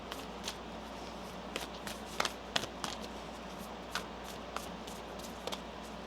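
Tarot cards being shuffled by hand at close range, a steady soft papery riffle with several sharper slaps and flicks scattered through, over a faint constant room hum and no talking.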